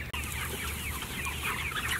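Hens cluck steadily in a busy chorus, close by and fairly loud, with overlapping calls and no one speaking.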